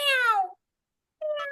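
A voice imitates a cat, giving two drawn-out meows separated by a pause of about half a second, the first long and falling, the second shorter, both close and clear.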